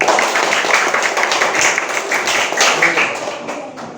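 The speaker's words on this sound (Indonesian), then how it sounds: "Beri tepuk tangan untuk kelompok 2." A classroom of students clapping for a group after their presentation, a loud burst of dense applause that gradually thins out toward the end.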